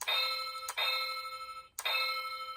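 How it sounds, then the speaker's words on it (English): A Jungle Fury Wolf Morpher toy rings a bright electronic bell chime three times in quick succession. Each strike rings out clear and close, with no voices. "This little bell goes off."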